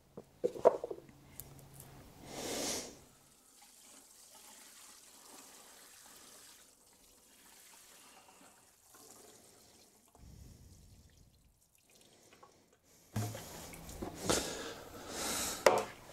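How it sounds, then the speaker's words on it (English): A watering can is filled from a tap in a greenhouse, a soft steady rush of running water lasting several seconds between louder handling clatter at the start and end. "Need to fill up my watering can again."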